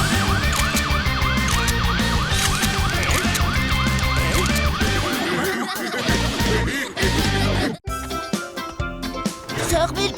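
A cartoon fire engine siren wails in a rapid repeating rise-and-fall over busy music and sound effects, then gives way to clattering effects.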